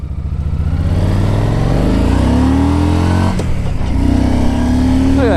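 A 2009 Yamaha V Star 1300 motorcycle accelerating hard on a test drive, its loud engine climbing steadily through the revs, a brief dip at a gear change, then climbing again with heavy wind roar, close and continuous.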